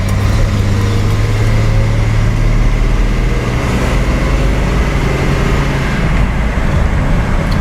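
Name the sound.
Datsun 280Z engine running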